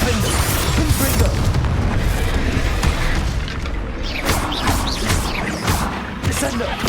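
Confringo blasting spell in Hogwarts Legacy, a loud booming explosion with crashing debris and rumble, followed by lingering crackles amid game sound effects.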